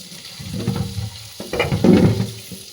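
Vegetables rinsed under a running kitchen tap, with close, continuous splashing water and rustling handling noises that swell louder toward the end, no voices.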